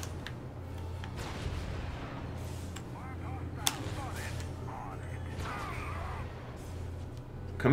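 Game combat in Star Wars: The Force Unleashed II with a steady rumble, soft whooshes and a single sharp shot cracking through midway, as an enemy fires on the player from a distance.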